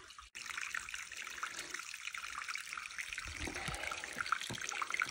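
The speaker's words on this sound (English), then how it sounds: "I guess it's fresh spring water" Fresh spring water flowing steadily over rocks at a desert oasis campground in New Mexico, a continuous bright trickling and splashing close by, with no voices over it.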